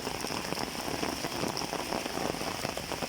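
Steady rain falling in a village, a dense, even hiss of drops pattering on surfaces, close and continuous with no voices.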